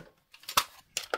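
Scissors snipping paper to trim a piece for a craft journal, a few sharp close cuts in quick succession with short pauses between.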